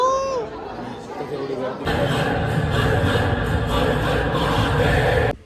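At a busy cinema showing the Raja Shivaji movie, a dense crowd murmur of many overlapping voices swells in abruptly and stays loud and constant, with close voices briefly audible before it.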